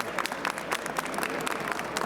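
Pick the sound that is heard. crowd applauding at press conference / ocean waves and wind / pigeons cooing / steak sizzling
crowd applauding at press conference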